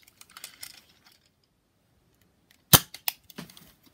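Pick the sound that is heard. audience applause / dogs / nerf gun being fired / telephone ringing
nerf gun being fired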